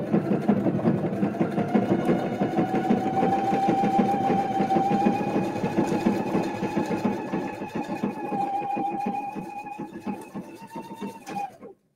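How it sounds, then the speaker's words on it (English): A sewing machine stitches fabric in a close, steady run, its rapid mechanical chatter continuous and fairly loud for nearly the whole stretch before stopping abruptly at the end. "Sometimes I sew a little too fast for my own good."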